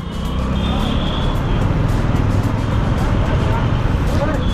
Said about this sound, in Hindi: इधर तो बस है, बस है।